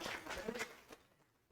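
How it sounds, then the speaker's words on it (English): A lecture audience gives a brief round of applause: a handful of close, distinct claps that quickly thin out and fade to near silence. "Round of applause for my help."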